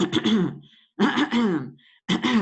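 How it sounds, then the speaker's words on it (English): Repetitive throat clearing as a simple vocal tic of Tourette's disorder, three loud, close, guttural bursts with short pauses between them. "There are also simple vocalizations that occur in the simple form of TS. Repetitive throat clearing."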